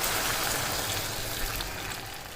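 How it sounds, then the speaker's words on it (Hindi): A steady, dense rush of water pouring continuously into a pot, close and fairly loud throughout with no voices. "ये मैंने आधा लीटर डाल दिया, पानी मैंने डाल दिया।"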